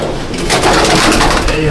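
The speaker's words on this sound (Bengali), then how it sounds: "এগুলো সব বাচ্চা পায়রা" Young pigeons in a loft coo in a short burst, close and fairly loud, with a voice talking briefly alongside.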